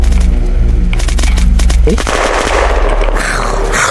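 Rapid automatic gunfire rattles loudly in Unturned, tight repeated shots in a fast burst for about two seconds, then scattered crackling shots and debris as firing continues more loosely.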